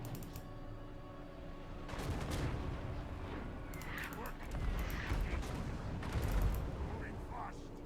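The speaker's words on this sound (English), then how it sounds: "maybe I want to play dodge and rocks because they've got artillery" Artillery and cannon fire from a Total War: Warhammer battle, with rumbling booms and explosions layered over a noisy battlefield din, building louder midway while someone talks over it.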